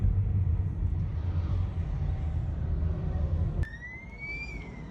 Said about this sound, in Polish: widzimy jak karetka łatwo przejechała